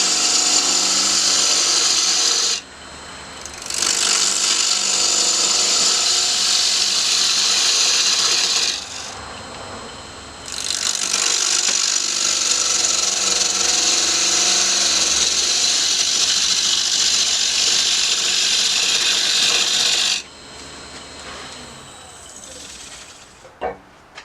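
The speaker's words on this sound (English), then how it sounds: "we'll have to pull out our 1/2-inch bowl gouge" Half-inch bowl gouge cutting a small dogwood live-edge bowl on a lathe, a loud, steady hissing scrape in three long passes broken by brief pauses, close and continuous with a faint whirr between cuts.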